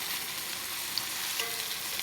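A thick pork chop fries in a pan, giving a steady, close hiss of sizzling fat throughout with a few faint pops and no talking.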